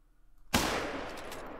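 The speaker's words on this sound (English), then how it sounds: "we just drilled that buck at 400 yards with the 270 polymer tip bullets" A single sharp .270 rifle shot firing a polymer-tip bullet at a buck in the hunting game Call of the Wild, with a sudden loud crack followed by a long, fading tail.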